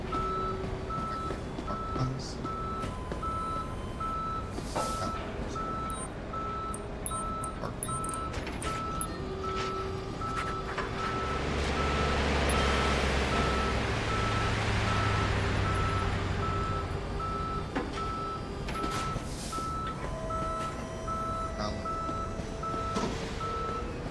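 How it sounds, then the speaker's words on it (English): A tow truck in the Police Simulator video game sounds its reversing alarm: evenly spaced electronic beeps repeat steadily the whole time over an idling engine rumble that swells briefly in the middle. "Tow truck will be at your location as soon as possible."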